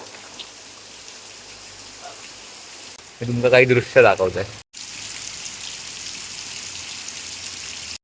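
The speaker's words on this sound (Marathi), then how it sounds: "आता येतात जोराचा पाऊस" Heavy monsoon rain pours down on a Konkan village as a steady, even hiss throughout. Someone talks briefly in the middle over the downpour.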